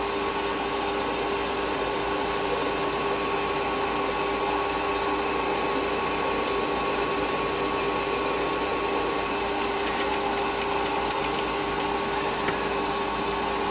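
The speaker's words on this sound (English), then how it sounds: "And I'm going to 6mm ream it." A machine runs continuously as a 6mm reamer cuts through a metal hole, a steady whirring hum with no pauses or voices.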